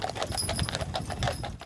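Horse hooves clip-clop in a steady, even rhythm as horses pull a wagon on a cross-country trip. The hoofbeats are faint and slightly distant, with no talk.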